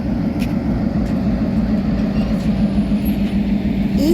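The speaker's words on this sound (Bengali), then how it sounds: "কথা বলতে বলতেই ঢাকা থেকে একটি ট্রেন চলে আসলো" A train arriving from Dhaka at Poradah railway junction in Bangladesh, a steady loud low rumble of wheels and engine running throughout, near and continuous with no talk.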